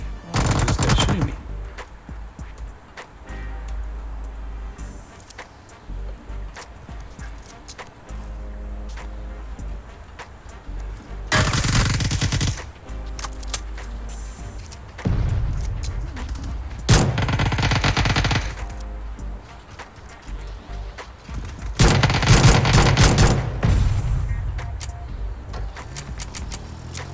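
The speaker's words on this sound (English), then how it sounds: "Oh, this guy's shooting me." Video game shooter gunfire: rapid automatic bursts and single shots that come in loud, dense clusters over a constant background of game sound.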